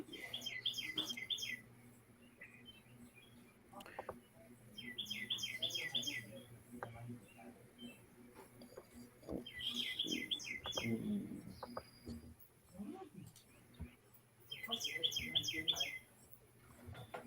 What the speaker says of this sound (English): those birds are chatting, huh?